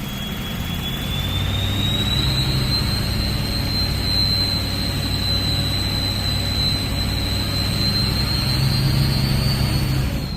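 Ford 6.0 Powerstroke diesel fitted with a loud 03 turbo, running with a steady high turbo whistle over a deep engine rumble, loud and close throughout with no voices.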